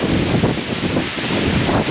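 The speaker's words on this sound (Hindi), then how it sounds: "बहुत डर लग रहा है, बहुत हवा है यहाँ पर।" Strong mountain wind buffets the microphone at Vasudhara Falls near Badrinath, a loud continuous roaring gust with no voices.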